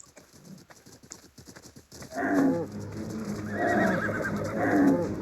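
In the video game Ark, a few hoof clops lead into a loud, wavering horse whinny that carries on for several seconds, close and prominent, with no voices.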